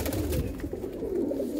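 Pigeons coo in low, soft, repeated calls, fairly close and alone without speech, over a faint background hum.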